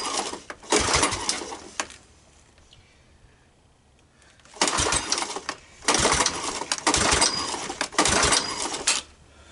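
A Honda ATC200M three-wheeler engine cranks but fails to start, with bursts of rapid metallic clattering churning in separate attempts separated by quiet pauses, close and loud with no speech.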